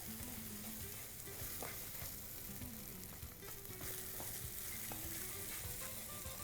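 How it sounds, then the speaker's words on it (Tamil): Kothu parotta is stirred and mixed in a hot pan, a steady close sizzle broken by repeated scraping and clinking of the utensil against the metal throughout. "பரோட்டா சேர்ந்து நல்லா மிக்ஸ் ஆகிடும். இப்போது எல்லாத்தையும் ஒன்றா மிக்ஸ் பண்ணிடலாம்."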